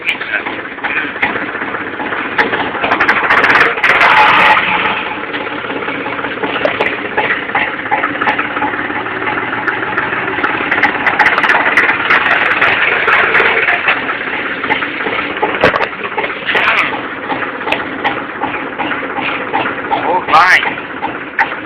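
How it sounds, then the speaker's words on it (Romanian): A rough tractor engine idles steadily close by, a continuous rattling rumble with watery, gushing noise over it, no speech. "frumos acest tractor"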